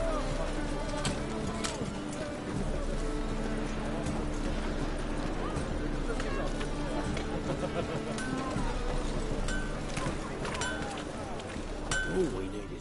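Roach the horse galloping in The Witcher 3: Wild Hunt on PS4, with steady, fairly loud clip-clop hoofbeats running continuously beneath a dense bed of other game sound and voices.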